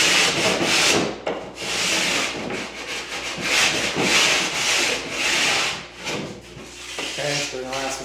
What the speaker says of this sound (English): We're going to go ahead and rasp it.